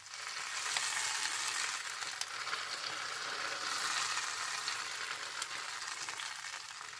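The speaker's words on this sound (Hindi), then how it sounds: "ये तड़का जो है ये हमने इसके ऊपर डाल दिया है।" Hot tadka poured over cooked mash and chana dal fizzes in a loud, steady sizzle that holds evenly for several seconds, a bright crackling hiss with no talk over it.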